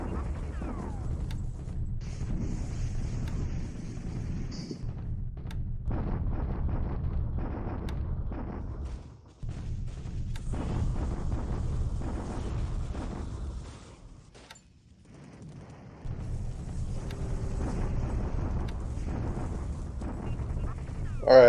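A naval bombardment in the war game War in the Pacific brings long runs of deep, rumbling explosions and gunfire that swell and fade in several waves, with short quiet gaps between barrages.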